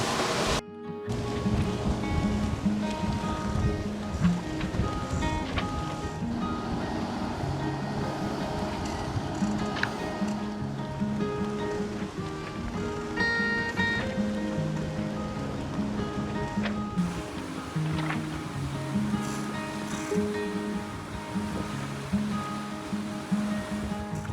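Continuous rushing water and wash of waves against a sailboat hull, steady and fairly close, with wind noise and no voices; the boat is sailing on one rudder.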